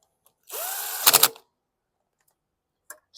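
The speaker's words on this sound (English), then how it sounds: "Since the 7mm bits on the DeWalt, we're going to put those on first, right into the plastic." A DeWalt drill fitted with a 7mm bit whines up loudly and bores into plastic for about a second, its pitch climbing and then grinding under load before stopping, followed by a faint click afterward.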